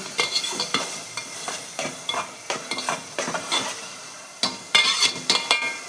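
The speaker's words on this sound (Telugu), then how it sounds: "ఆయిల్ ఆనియన్స్ వేయాలి. ఆనియన్స్ వేసుకోవాలి." Onions frying in oil in a pan for an egg curry, with repeated stirring and scraping bursts over a steady sizzle, close and fairly loud throughout.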